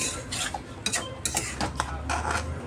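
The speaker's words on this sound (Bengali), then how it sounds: "এখন আমি আলুটা দিয়ে দিচ্ছি। আলুটা মশলার সাথে মিশিয়ে নেব।" Potatoes being stirred with spices in a metal pot, a utensil scraping and clinking against the sides in irregular bursts, close and fairly loud with no talking.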